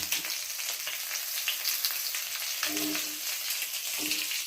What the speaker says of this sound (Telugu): మనకి చేపలు ఫ్రై అవుతుందండి